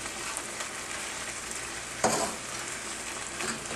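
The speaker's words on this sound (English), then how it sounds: "We don't want it to wilt totally, but we're going to cook it slightly at this point." Around a cup of spinach cooks briefly in a pan with a steady close sizzle and soft stirring, and one louder sizzling burst about halfway through, with no one speaking.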